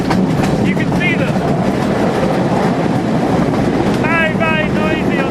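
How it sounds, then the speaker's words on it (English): Loud, constant rumbling and rattling fill the interior of a moving train in Sri Lanka, with rhythmic clatter and faint squeals rising over the roar. "Very noisy on the train."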